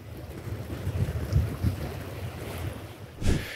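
Strong wind over a lake buffets the microphone in steady low rumbling gusts, with water sloshing and lapping nearby and a sharper gust near the end.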